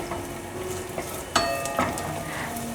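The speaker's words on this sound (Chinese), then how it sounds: "锅内放入少许油，把猴头菇放进来炒香。" Chopped lion's mane mushroom stir-fried in a little oil in a pan, giving a soft, steady sizzle with a few light clinks of a utensil against the pan.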